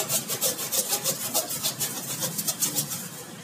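A hand saw rasping back and forth through meat and bone in quick, regular strokes, close and steady, grinding through the tough material.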